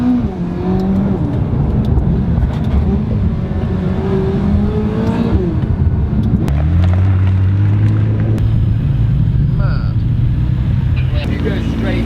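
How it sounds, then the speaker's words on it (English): A McLaren GT sports car's engine and exhaust under hard driving, loud and close, with throttle surges and scattered sharp cracks like exhaust pops and bangs, while someone talks over it throughout. "Starting to make some pops and bangs."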